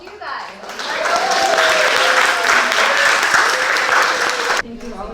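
An audience at a workshop applauds in a full, sustained round of clapping that swells and holds steady. A voice speaks briefly over the clapping before it stops abruptly.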